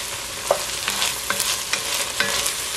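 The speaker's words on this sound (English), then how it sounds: "saute this for about 1 minute" Vegetables and minced garlic sauté in a pan before rice goes in for Mexican rice: a dense, close sizzle with several quick scraping stirs spaced about half a second apart, no voices.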